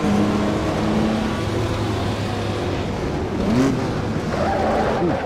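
Jaguar C-Type race car driven through the Feldbergring in Assetto Corsa, a loud, continuous engine drone with shifting pitch as it accelerates, brief revs, and other cars nearby.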